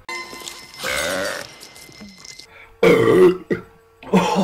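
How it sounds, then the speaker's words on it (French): Several loud, throaty burps erupt one after another with short pauses between them, rough and guttural, right after a drink. "Oh, t'as roté."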